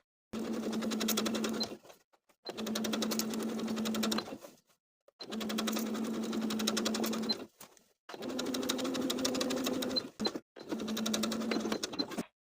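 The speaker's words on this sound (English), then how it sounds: "Sew within the outermost crease of the bias tape all the way around." A sewing machine stitches along the crease of bias tape on a fit-and-flare dress, running in five steady bursts of a couple of seconds each with short pauses between, loud and close with no talking.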